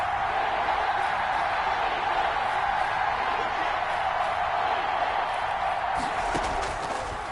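A stadium crowd roars steadily and loudly in an American football video game as play builds toward a big third down, a continuous cheering wash that holds through the whole moment.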